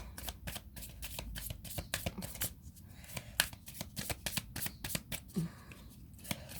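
Archangel Oracle cards being shuffled by hand close up, a rapid run of crisp riffling flicks and snaps that goes on unbroken, fairly soft overall.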